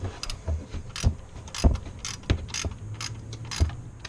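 A hand ratchet tightens down a hold-down bracket in an engine bay. It makes a close series of sharp clicks in uneven bursts, with short pauses between strokes and no talking.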